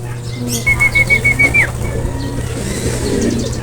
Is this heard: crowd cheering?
no